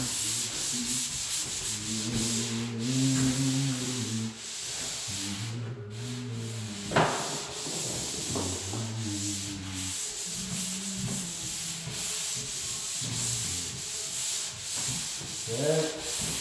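Sanding up in a high spot gives a steady, scratchy rubbing drone with a rhythmic back-and-forth pulse. It holds fairly constant and fairly close throughout, broken by a few brief sharper knocks.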